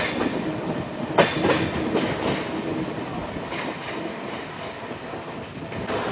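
Train rolling along the Kakinada–Rajahmundry line, a steady broadband rumble of wheels on rails with recurring clickety-clack joint beats, close and continuous, no voices.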